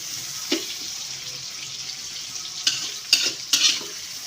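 Finely chopped onions frying in hot oil, a quiet even hiss broken by a few brisk spatula scrapes and stirring bursts toward the end, near and without talk.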